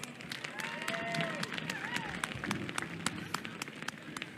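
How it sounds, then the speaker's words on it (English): Crowd applause for the USSA at a snowmobile championship in Wausau, a brief spatter of claps heard faintly under a person talking. "give the USSA a round of applause"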